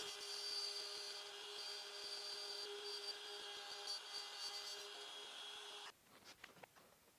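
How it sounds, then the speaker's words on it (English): A palm router cuts hinge recesses in walnut with a sustained, high-pitched whine that runs steadily for about six seconds, then cuts off, leaving faint clicks and handling noises. "I'm going to set up my palm router to be half of that, and then I'll route out the spots for the hinges."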